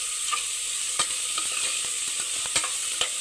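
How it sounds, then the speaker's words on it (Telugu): Carrots frying in a pressure cooker, with a steady bright sizzle and sporadic sharp taps of a stirring spoon against the pot, close and without speech. "ఒక 10 నిమిషాలు ఇలానే మనము కుక్కర్లో ఫ్రై చేసుకుందాము."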